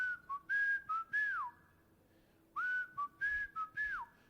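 A man whistles a melodic tune during a sermon at a church conference, clear sustained phrases in two runs separated by a short pause, alone with no talk.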